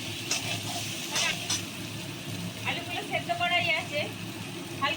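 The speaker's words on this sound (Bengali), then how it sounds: "চিংড়ি মাছগুলো এবার আমি ভেজে নেবো" Shrimp coated with turmeric and salt fry in a pan with a steady, close sizzling hiss, and a voice talks over it.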